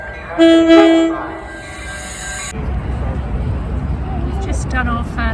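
A train sounds its horn in a loud, harmonic blast at a city centre station, then gives way to a steady low rumble of rolling rail cars with some squealing wheels near the end.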